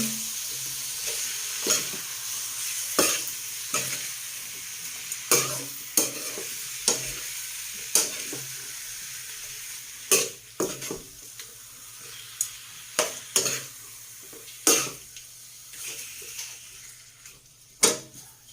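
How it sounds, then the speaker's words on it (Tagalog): Chicken adobo with saba banana is stirred in a frying pan, a steady sizzle broken by repeated sharp scrapes and clacks of the utensil against the pan, close and fairly loud, with no talking. "Ngayon, haluin natin."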